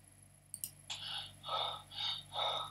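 A breathing sound effect from a virtual reality therapy headset plays after a couple of faint clicks. It gives three or four slow, airy breaths, quiet and close.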